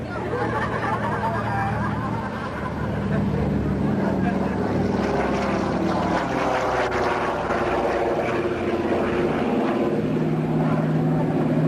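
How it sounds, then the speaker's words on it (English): A deep, throbbing radial aircraft engine roars past on a low pass overhead at the Royal International Air Tattoo, swelling then fading, with a crowd murmuring underneath throughout. "listen to the gorgeous sound of the radial engine"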